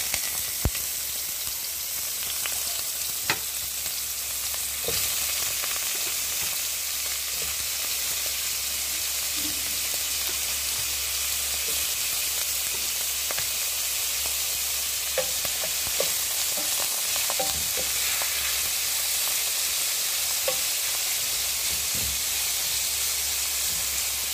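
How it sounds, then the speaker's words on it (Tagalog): Steady, close sizzling of beef frying in a pan over low heat, a continuous hiss broken by occasional pops and crackles, with no one speaking. "Prito muna natin isa-isa ang"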